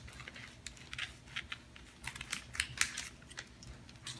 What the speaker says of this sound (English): And then I'm going to cut right up this line.